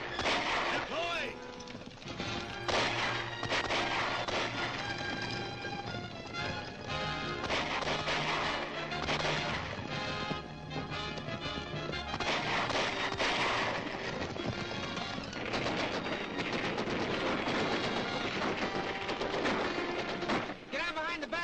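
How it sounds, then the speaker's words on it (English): Dense, loud clatter of gunfire crashes and bangs runs continuously, with music and shouting voices mixed in throughout, from the 1941 serial The Adventures of Captain Marvel. "protect you from the gunfire"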